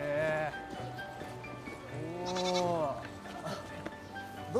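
Goats bleat repeatedly at a petting corner, several drawn-out wavering calls close by, with a little background noise between them.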